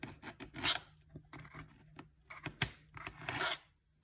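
A knife blade drawn through a Milwaukee knife sharpener gives close, quiet rasping strokes in uneven bursts with short pauses between, and no voices.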